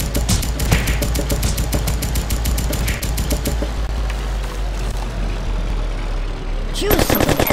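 Rapid bursts of machine-gun and rifle fire at a shooting range in the Kick the Buddy mobile game, dense repeated shots for several seconds, a lull of rumbling reverberation, then another loud burst at the end.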